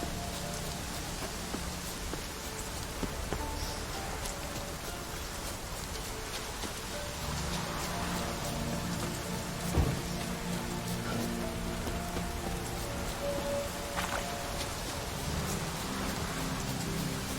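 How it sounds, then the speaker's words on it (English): Steady rain falls in The Witcher 3: Wild Hunt, a dense hiss of drops on surfaces that runs without a break the whole time, fairly loud and close, with no talk over it. "Looks like rain."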